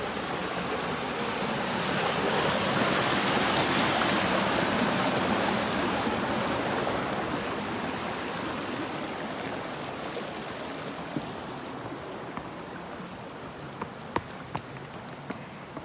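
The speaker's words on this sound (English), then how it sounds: "I was at that river down there. Still hear it clear as a bell." A river heard from a trail above it, a steady broadband rush of flowing water that fades slightly toward the end, with a few faint clicks and no voices.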